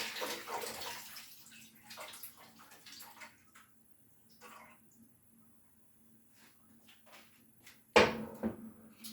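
Vinegar soaking liquid is poured off pork chops into a sink, a faint splashing trickle under quiet kitchen sounds and a voice, ending with a louder clattering splash.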